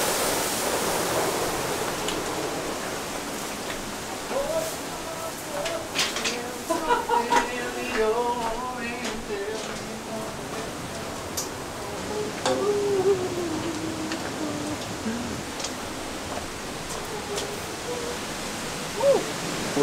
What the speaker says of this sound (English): at one point we got to a tunnel with like a huge waterfall going over it